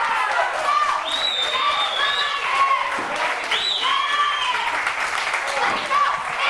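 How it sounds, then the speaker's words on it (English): A wrestling crowd at the Chop Shop applauds and cheers after a fall away slam from the second rope, a sustained roar of clapping with whistles beneath a commentator's voice. "Crowd here at the Chop Shop appreciating that maneuver right there"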